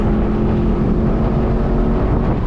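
A Lexus LC500 Convertible's 5-litre V8 engine runs steadily and loud, a deep continuous rumble with no breaks.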